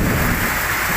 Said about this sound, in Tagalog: Kulog at kidlat. At lakas ng ulan.